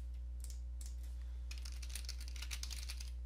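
Quick bursts of keystrokes on a computer keyboard, a few separate taps and then a faster run of clicks, faint and close over a steady low electrical hum, with no talking.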